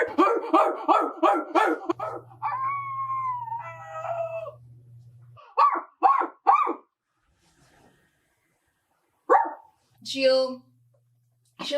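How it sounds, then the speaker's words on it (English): A dog barks in a quick series, then gives a drawn-out howling whine and a few more sharp barks, with quiet pauses between. "she goes to the window and she starts barking at them"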